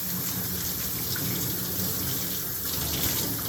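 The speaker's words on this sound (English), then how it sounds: "you always want to wash any beans" Beans washed under a running kitchen tap, a steady close gush of water splashing into the sink throughout, without pause.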